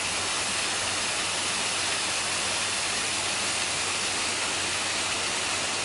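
A waterfall pours into a pool, making a steady, broadband rush of water that stays loud and unbroken throughout.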